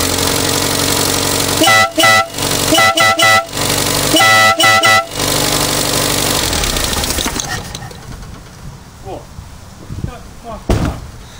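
Air horns blast in several short, loud bursts over a running engine, two clusters of repeated honks before the horns stop and the engine noise fades to quieter workshop sounds.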